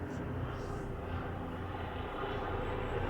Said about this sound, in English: I don't know what the helicopter sees, but I wouldn't be surprised if it's a military helicopter watching all over us.